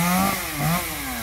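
A chainsaw works on eucalyptus trees in Sa Dec, Dong Thap, its engine revving up and dropping in short pulses, close and fairly loud.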